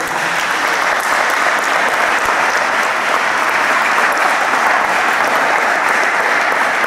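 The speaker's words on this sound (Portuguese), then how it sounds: "Aplauda o nome do Senhor" A church congregation claps together in steady, dense applause that holds at an even, loud level from start to finish, with no voices standing out.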